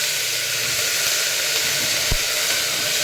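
Chopped snake gourd hits a hot pan for a vegetable sambar, giving a steady loud sizzling hiss that carries on without a break, with one soft thump partway through.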